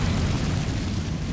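The Incendio fire spell cast in the video game Hogwarts Legacy produces a loud, steady roaring whoosh of flame with a heavy low rumble, filling the whole moment without a break.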